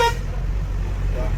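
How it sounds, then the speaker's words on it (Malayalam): A tourist bus sounds its air horn on a winding ghat road, a loud brief blast at the start over a heavy low engine drone. "എയർ ഹോൺ ഇല്ലാണ്ട് നമുക്ക് ചുരം കയറാൻ കഴിയില്ല."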